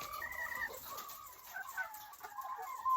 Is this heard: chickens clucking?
yes